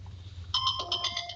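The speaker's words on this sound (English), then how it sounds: "Silence your phone." A mobile phone ringtone goes off during a public meeting, a bright repeating electronic melody that starts abruptly partway through and keeps ringing at moderate loudness over a low room hum.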